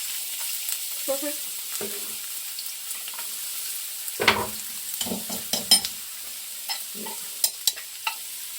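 Garlic frying in hot oil, with a soft, low sizzle beneath scattered scraping stirs and a few sharp utensil clinks against the pan, fairly quiet and close.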